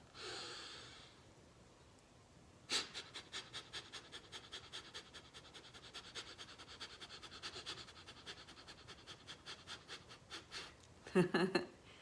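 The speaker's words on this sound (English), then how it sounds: "take a breath in, and do 20 again" Rapid Kapalabhati breath-of-fire breathing, a long run of quick, forceful, evenly spaced nasal exhales in a steady rhythm, close and fairly loud, framed by a deeper breath at the start and end.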